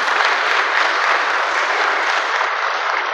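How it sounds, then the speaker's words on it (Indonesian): An audience at a welcoming event for a modern Islamic boarding school claps together in a dense, steady round of applause, loud and sustained for the whole stretch. "Tepuk tangan untuk beliau"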